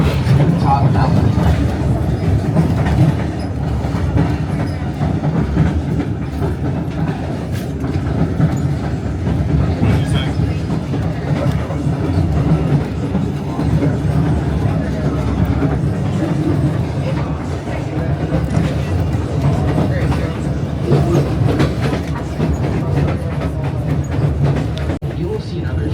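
Scenic railway train rolling along mountain tracks near Skagway, with a loud continuous rumble and steady clickety-clack of wheels heard from inside the car, a guide's narration running underneath throughout.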